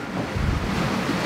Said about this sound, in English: it's not the best conditions, quite big waves, lots of winds, there's the rain coming